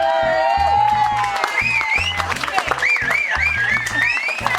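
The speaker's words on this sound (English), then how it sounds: "And a second round of applause" A wedding crowd claps and cheers loudly during the speeches, with whoops and rising shouts over the applause, lasting throughout.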